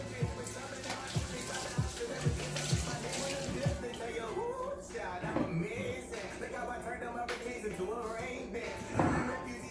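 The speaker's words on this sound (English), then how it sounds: "Let me wash my hands." Hands being washed under a running sink tap, water splashing steadily for several seconds with a few knocks and clinks near the start and some faint background voice.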